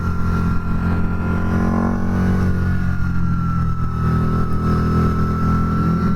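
A Harley-Davidson V-Rod Night Rod Special motorcycle rides steadily with a loud, continuous low engine drone and wind rush, holding a near-constant pitch without pauses and no talking.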